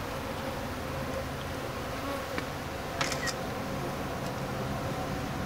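Honey bees buzz steadily and softly around an open hive during beekeeping work, a close, even drone broken by a few faint clicks.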